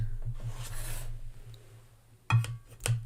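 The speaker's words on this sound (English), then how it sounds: "you make sure the scraper is hitting the top and the bottom discs" A scraper smooths buttercream on a cake held between acrylic discs, giving soft rubbing scrapes that swell and fade, then a couple of sharper scuffs near the end.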